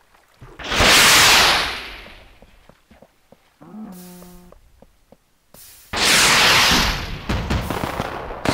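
Booming whooshes and crackling bursts of fireworks in a game, two big blasts with sparkly crackles after, and a brief musical tone between them.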